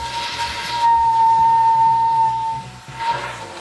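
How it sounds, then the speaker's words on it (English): Air whistling through a small hole on a long-travel Toyota Tacoma during work on its CV axles makes a steady shrill single tone that holds for nearly two seconds, loud and close, over a low rumbling hiss. "There's a little hole down there making it whistle."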